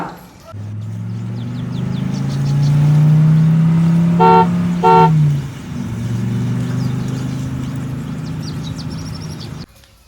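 A car horn gives two short toots over the steady low rumble of a nearby engine as a vehicle pulls up, with the engine noise continuing before and after the honks.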